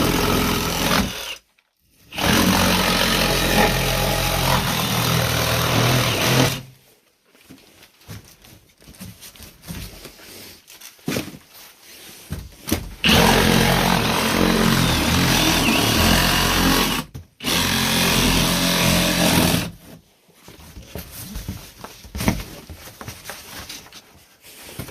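A Milwaukee M18 Fuel Sawzall reciprocating saw cuts in loud, sustained bursts of several seconds each, separated by brief pauses and quieter handling noise.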